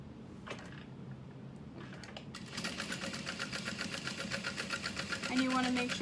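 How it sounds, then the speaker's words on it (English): A sewing machine stitches through the card slots and side panel of a fabric clutch wallet, starting after a few faint taps into a steady, rapid mechanical whirring chatter, close and moderately loud. "you want to make sure you're sewing through the card slots on that side panel"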